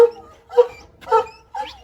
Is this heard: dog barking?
yes